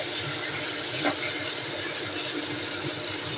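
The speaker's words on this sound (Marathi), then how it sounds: "टॉमॅटो आपल्याला छान परतून घ्यायचा आहे किंवा टॉमॅटो तुम्ही सगळ्यात शेवटी टाकलात तरी चालेल पण मी फोडणीवरती वापरला आहे" Tomatoes sauté in a hot oil tempering for a spicy Konkani crab curry, giving a steady, loud broadband hiss and sizzle that runs unbroken and close throughout, with no talk over it.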